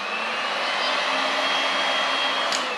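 A heat gun blasts a steady, loud stream of hot air onto vinyl covering film to soften it for working into corners, an unbroken whoosh throughout with no voices.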